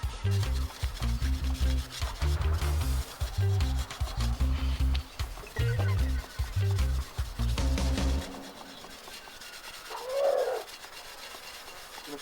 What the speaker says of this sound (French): alors je vais gratter une première fois là, tout de suite après la cuisson pour dégrossir